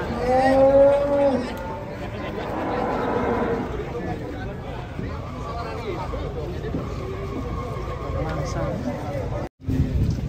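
Giant cattle unloaded from a truck: a drawn-out low moo rises early on. Loud crowd chatter and shouting voices fill the rest, with livestock noises mixed into the hubbub.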